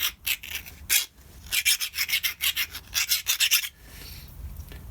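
Hand file rasping rough metal edges on a Suzuki GSF 1200 Bandit part during crash repair, a close run of quick rhythmic scraping strokes, bursts of several strokes with brief pauses, then a softer steady rub.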